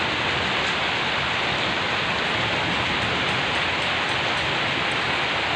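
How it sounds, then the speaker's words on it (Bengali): Heavy rain pouring during a Kalbaishakhi nor'wester storm, a dense, loud, unbroken roar of water on surfaces that stays constant throughout, with no talk. "আসলে বছরের শুরুতে এত বৃষ্টি"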